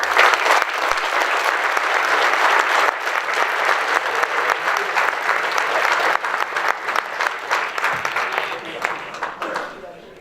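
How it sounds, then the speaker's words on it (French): An audience applauds at a town's New Year 2017 wishes ceremony in Angresse, France. The clapping is sustained and dense, then thins out and fades toward the end, with voices faintly mixed in. "On peut l'applaudir de nouveau et le remercier."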